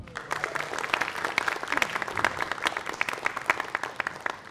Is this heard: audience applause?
yes